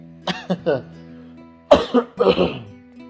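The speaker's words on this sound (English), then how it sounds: "I've been coughing very aggressively" Two bursts of harsh, close coughing from a juggler with damaged stomach muscle attachments, a short cluster of three coughs, a pause, then a heavier rasping fit.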